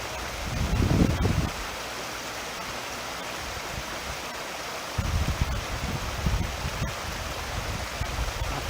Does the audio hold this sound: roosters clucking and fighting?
no